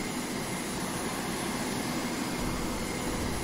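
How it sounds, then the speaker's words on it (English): Steady jet aircraft engine roar from Carrier Command 2 as a plane takes off from a runway, a constant broadband rush holding even loudness throughout. "Hey, something's taking off."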